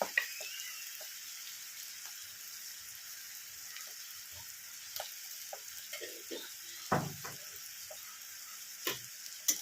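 Ingredients for mixed fried rice fry quietly in a pan, giving a soft, continuous sizzle broken by occasional light clicks and taps of a utensil, with no one speaking.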